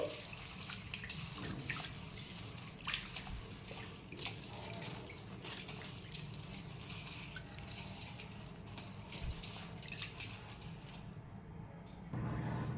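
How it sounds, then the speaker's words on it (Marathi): Soft sloshing and swishing of water in a bowl, with small splashes and clinks as lentils are rinsed, fairly quiet and close. "दोन तीन वेळेस ही डाळ पाण्याने धुवून घ्यायची"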